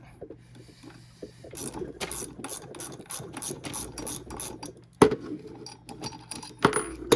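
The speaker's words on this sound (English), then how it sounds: "then you'll be able to unscrew this bolt" A ratchet clicks in quick bursts while a bolt is unscrewed from a mini bike's torque converter, close and fairly quiet, with clanks and a sharp metallic knock partway through.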